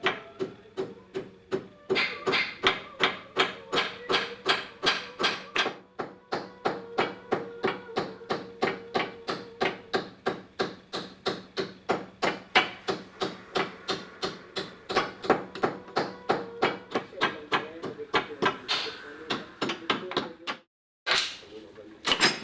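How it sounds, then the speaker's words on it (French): A hammer taps book sections against the jaw of a bookbinding vice in a fast, steady rhythm of dozens of crisp wooden knocks. The tapping pauses briefly near the end, then resumes. "à l'aide du marteau, j'emmène les cahiers se coucher contre la mâchoire de l'étau"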